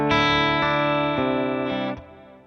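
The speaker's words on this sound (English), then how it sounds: "If you listen to the guitar sound now" An overdriven electric guitar with a full, harmonically thick tone strums four sustained chords about half a second apart, loud and close, with the last chord decaying away.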